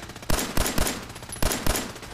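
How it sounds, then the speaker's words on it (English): Gunfire in Fallout 4 rings out in loud close bursts, about seven sharp shots in uneven clusters over a constant background hum. "Who's shooting at me?"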